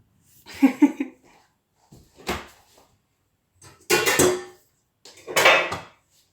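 Several separate metallic clanks and clatters, like a pot and lid being handled nearby, spaced out with quiet gaps between them.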